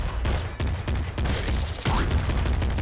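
Rapid shotgun blasts from the video game Nuclear Throne, a run of sharp, punchy bursts about every half second, loud and close, each with a booming low-end thump and no talking over them.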